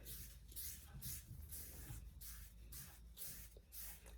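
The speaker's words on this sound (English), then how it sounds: "I'm going to spritz, maybe just 2," A spray bottle spritzes water before LALA Wax is applied. The quiet, airy bursts repeat in a quick, steady rhythm, with no talking heard.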